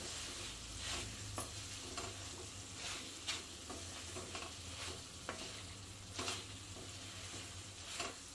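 Ridge gourd curry with fresh coriander is stirred in a pan, giving a soft hiss and sizzle broken by repeated scraping strokes of the spoon, close and steady with no talking.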